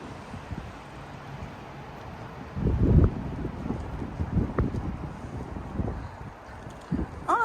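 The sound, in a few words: wind blowing outdoors in garden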